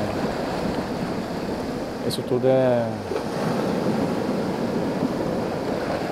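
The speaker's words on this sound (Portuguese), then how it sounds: "ouvindo esse som da maré" Steady rush of ocean tide and waves washing at the shore, loud and continuous, with wind noise and a brief tonal sound partway through; someone speaks briefly over it.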